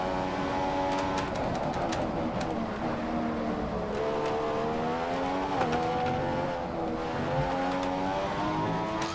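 A Formula 1 car engine from F1 2015 screams steadily, its pitch climbing and dropping through gear changes, loud and continuous with brief tire squeals.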